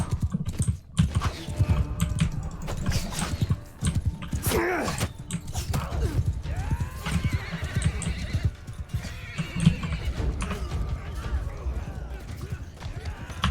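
Steady hoofbeats and galloping with a loud horse whinny in the video game Mount & Blade 2, layered over busy game action noise and clatter, continuous throughout.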